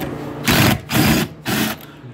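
Power driver backing out a seat bolt on a 2012 Chevrolet Silverado, running in three short, steady whirring bursts close by with brief pauses between them.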